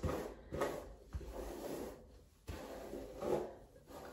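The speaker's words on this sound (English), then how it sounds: "I'm just using a wooden brush" A wooden brush is drawn through very long hair in a series of quiet, rough, rasping strokes that repeat at an uneven pace, with no voices.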